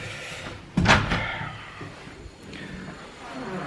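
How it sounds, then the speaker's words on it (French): A front door swings shut with a loud, close thump, followed by softer rattles and clicks as it is locked with keys; quiet room noise lingers afterward. "Je te laisse fermer la porte?"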